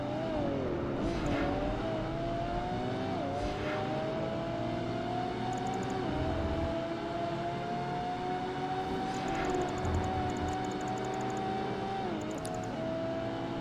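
Race cars in Project Gotham Racing 2 drone steadily with engines revving up and down through gear changes, a continuous close engine roar with occasional pitch dips across the whole stretch.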